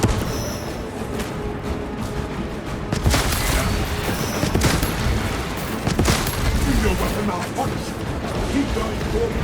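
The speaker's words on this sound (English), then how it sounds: "Frag grenade out!" A frag grenade goes off in a sci-fi shooter game battle against alien Xenos, a loud burst with broad crashing blasts amid steady combat noise and gunfire, with a voice talking over it.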